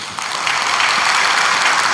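A Korean church congregation at a Sunday praise service applauds for the elementary department, dense, loud clapping that starts at once and holds steady and close for the whole short stretch.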